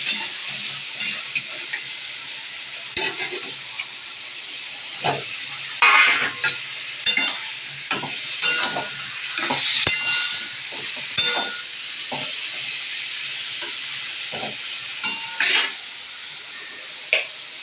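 A blended spice paste for fish, ground in a mixer, sizzles and spits in a hot pan, with steady frying hiss and repeated stirring scrapes and clicks throughout. No one speaks.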